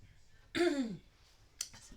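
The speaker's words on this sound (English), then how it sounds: "Excuse me, clear my throat here a little bit." A person clears their throat once in a short, raspy burst, followed by a faint click or second small noise, fairly quiet and close in an indoor room.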